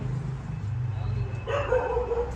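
A month-old puppy gives a few short high yips near the end, close by, after a stretch of low background noise and chatter; people talk around it.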